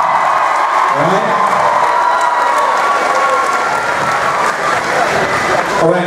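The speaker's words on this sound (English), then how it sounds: "Give them a round of applause." A school homecoming assembly crowd applauds a panel of judges: loud, dense clapping from a large gathering with a few cheers and whoops, steady for several seconds before starting to thin.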